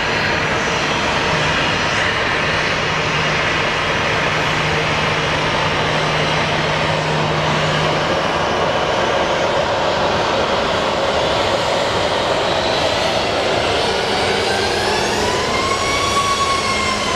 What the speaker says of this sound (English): I believe he will move once this plane lands.